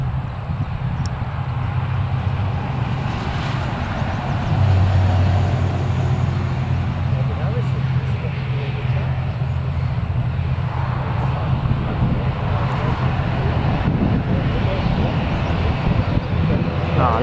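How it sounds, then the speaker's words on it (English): Steady broadband engine drone of a propeller aircraft at Newcastle Airport, constant and fairly loud throughout with a low rumbling hum, no talk over it. "Ah, I love the little props, man."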